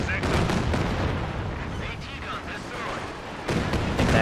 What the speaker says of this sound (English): That Katyusha barrage is too little too late.